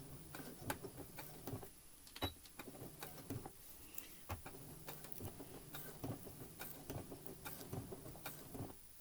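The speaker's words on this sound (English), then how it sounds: "rethreaded my machine with a nice navy blue thread on top for sewing this Cub Scout leader patch" A home sewing machine stitches a Cub Scout leader patch with navy blue thread, giving faint, rhythmic mechanical ticking and whirring in short repeated bursts.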